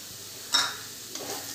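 Asafoetida is stirred into browned onions frying in a pan, giving a quiet sizzle with a brief scraping stir and a softer second stir, close and low in level.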